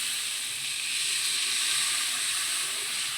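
Steady loud sizzling hiss from a hot pan of sautéed bottle gourd and shrimp as water is poured in, a continuous bright frying roar that holds evenly throughout with no talking.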